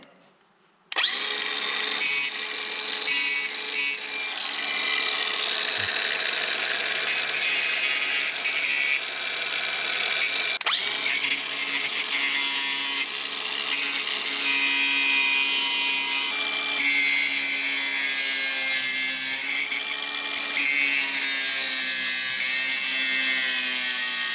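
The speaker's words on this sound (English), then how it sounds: "So I'm just gonna grind this off and get to the next step." A power grinder cuts steadily through the drive chain of a Yamaha Raptor ATV, a loud continuous high-pitched whine that runs almost unbroken for over twenty seconds with slight shifts in pitch as it bites.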